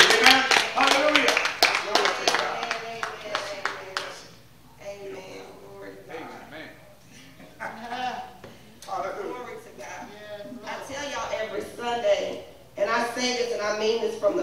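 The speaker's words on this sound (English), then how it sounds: "give them a round of applause when they come to the stage" A church audience gives a burst of rapid clapping that fades after a few seconds, followed by people talking with scattered claps and taps underneath.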